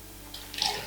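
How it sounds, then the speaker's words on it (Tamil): Tamarind water poured into a simmering pot of curry, a brief close splash and trickle lasting under a second. "இதையும் கரைச்சி இதிலேயே ஊற்றிடலாம்."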